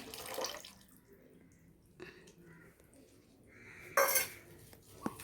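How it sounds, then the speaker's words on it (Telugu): Buttermilk being poured over rice in a kitchen: soft, faint liquid splashing broken by sharp clinks of a spoon and dishes, with a brighter clatter toward the end. "మజ్జిగ అయితే పోస్తున్నాను మజ్జిగ అయితే పోసేసుకుంటున్నాను"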